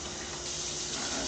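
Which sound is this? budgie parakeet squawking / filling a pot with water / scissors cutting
filling a pot with water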